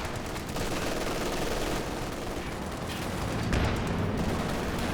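A strafing run in Company of Heroes 2 on the Across the Rhine map, with dense, continuous rapid gunfire and rumbling blasts that build to a heavier burst toward the end, loud and close throughout.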